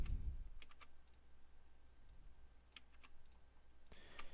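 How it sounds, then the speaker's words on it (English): Keys on a computer keyboard are tapped in short scattered clusters as a username and password are entered, quiet close clicks over a low hum. "now you're going to type in the username and password that was provided in the email"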